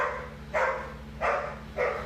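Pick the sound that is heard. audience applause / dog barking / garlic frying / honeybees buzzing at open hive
dog barking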